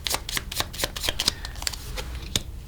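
Botanical Inspiration oracle cards being shuffled by hand, a rapid run of crisp flicking riffles up close, without any voices.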